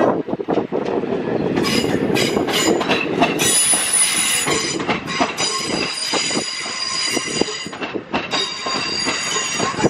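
Electric unit 323229, a Class 323 on a work service from Manchester Piccadilly to Crewe, passes close by at Crewe station, with loud, shrill wheel squeal over rolling rumble and rhythmic clickety-clack, and no voices.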